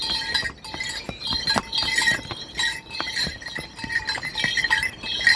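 Horse hooves clip-clop along a mountain trek trail, irregular sharp knocks and clinks close by, steady through a busy outdoor background without talk.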